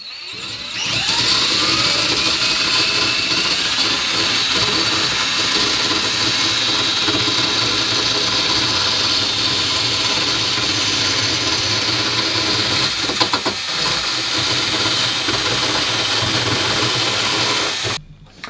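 A rotary tool fitted with a sanding disc whines steadily at a high pitch almost nonstop for about seventeen seconds, spinning a nut down a threaded rod, loud and close, then cuts off abruptly near the end.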